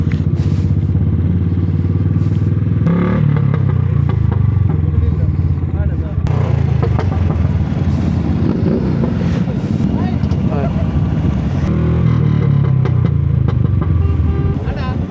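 A motorbike engine running loudly at an outdoor auto expo, a steady rumbling idle with revs rising and falling throughout, amid crowd chatter and people talking.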